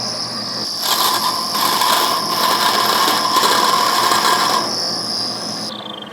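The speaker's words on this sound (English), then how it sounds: "Then we cut all our hoses with the bandsaw." A bandsaw cutting braided AN hose, a steady close mechanical whine and rasp lasting several seconds before easing off, with no talk.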